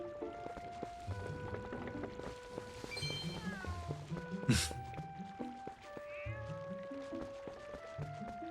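Cat meowing in the video game Twilight Princess, a few drawn-out meows and one sharp yowl set against steady game music that plays throughout.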